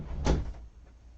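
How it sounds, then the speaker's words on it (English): An indoor door swings shut with a single dull thud and a short rattle, loud and close, followed by a faint room tail and no voices. "let me close this door"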